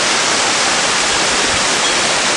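A small waterfall near Taktsang temple in Bhutan roars as a loud, steady broadband rush of falling water, close and constant with no voices.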